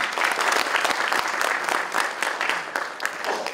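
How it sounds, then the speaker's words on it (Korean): Dense, steady applause from a crowd at a forum on local council status and local autonomy law reform, filling the whole stretch at an even loudness with no voices above it. "다시 한번 힘찬 박수 부탁드리겠습니다."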